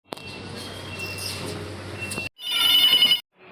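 A mobile phone rings with an incoming call, a loud electronic ringtone that starts, cuts out briefly, then resumes in short bursts over outdoor background noise.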